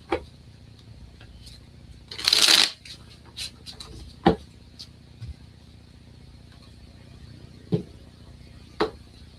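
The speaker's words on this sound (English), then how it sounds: "I'm going to manifest Jim be able to shuffle these cards without tearing them up." A tarot card deck gets shuffled in one short, crisp riffle burst, surrounded by scattered quiet taps and handling clicks in a calm room.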